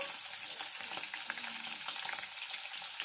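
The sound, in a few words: mustard seeds, cumin, chili and curry leaves frying in oil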